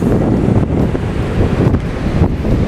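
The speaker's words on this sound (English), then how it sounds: "The waves are huge." Large ocean waves roll onto a beach in Lisbon, a continuous loud rumbling wash mixed with heavy wind buffeting the microphone, and no voices.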